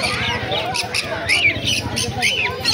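At a pet bird market selling parrots and cockatiels, caged birds give sharp repeated squawks and chirps, moderately close, under and between a person talking.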